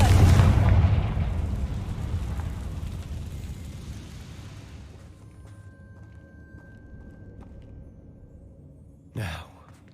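Confringo blasting spell explosion: a loud booming burst at the start that rolls off into a long fading rumble, followed by a short sharp pop near the end.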